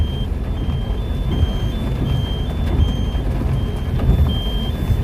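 A truck reverses near a pig farm in Israel, its reversing alarm beeping in a steady, evenly spaced rhythm over a continuous low engine rumble.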